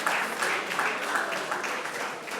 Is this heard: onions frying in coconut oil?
no